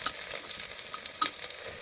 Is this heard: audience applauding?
no